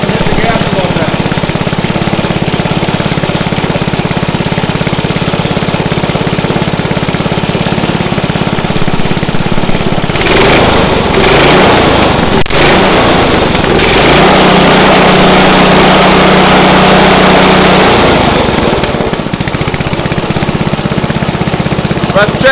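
Small engine roaring loudly and continuously, with a coarse rattling tone, rising in pitch as the throttle opens partway through and then settling back down.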